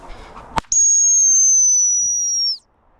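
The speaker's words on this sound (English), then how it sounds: "fire the shot, blow the whistle, and throw the dummy" A dog training whistle gives one long, steady, piercing tone lasting about two seconds, loud and close. A sharp gunshot-like crack comes just before it, and there is no talk.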